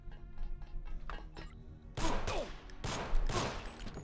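Gunfire in the 2000 PC game Deus Ex: a few quieter scattered shots and thuds, then two louder, sharper bursts of firing with crashing impacts toward the end.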